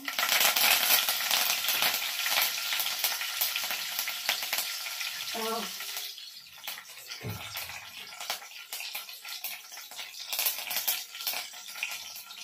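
Mustard seeds, asafoetida and curry leaves sizzle and crackle in hot oil for a Maharashtrian val bean dish, a steady loud frying hiss with sputtering bursts and a brief stirring clatter partway through.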